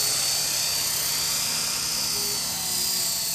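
A small RC helicopter on a test flight gives a steady, high-pitched whine of rotor and motor, loud and continuous, with a faint rise and dip in level as it hovers nearby.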